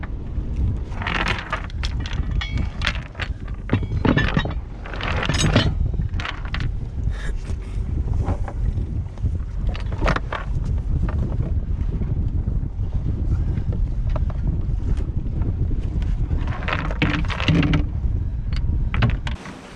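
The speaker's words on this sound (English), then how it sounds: "We've only got about 10-12 knots of northeasterly wind." Steady wind of about 10-12 knots from the northeast buffets the microphone on a sailboat at sea, mixed with the rush of water against the hull and occasional creaks and knocks.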